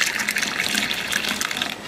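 Hot dry ginger coffee is poured into a glass, giving a steady, continuous liquid gush that runs close and clear for a couple of seconds with no voices.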